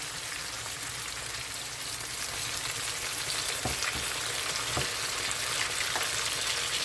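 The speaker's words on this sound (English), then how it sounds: "Now guys, I'm going to go ahead and add the saltfish." Saltfish hitting a hot pan, giving a soft, even frying sizzle with a few faint ticks and taps from utensils.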